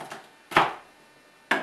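A knife chops garlic on a cutting board, giving three sharp, close taps spaced unevenly in a short, otherwise quiet moment.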